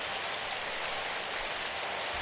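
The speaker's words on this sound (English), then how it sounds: "It's absolutely pouring rain." Heavy rain in the visual novel game Symphonic Rain, heard as a dense, even downpour hiss that holds steady and unbroken at a moderate level with no voices.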